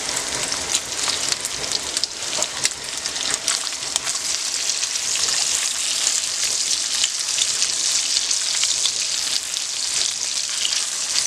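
Chorizo frying in a hot pan for frijoles charros gives off a loud, steady, dense sizzle that fills the whole stretch with crackling, with no talking over it.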